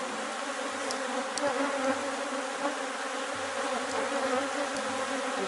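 Honey bees hum steadily around hive frames at a small apiary, a dense, continuous buzz close by with a few brief louder passes and light handling noises.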